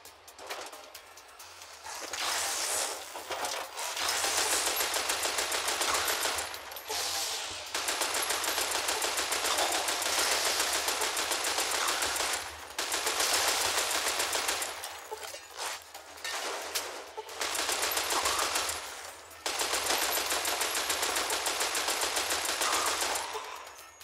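Sustained machine gun fire in the video game Fallout New Vegas, long loud bursts of rapid shots broken by short pauses, with no talk over it.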